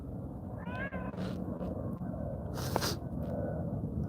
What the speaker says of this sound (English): The cat makes a reappearance, guys.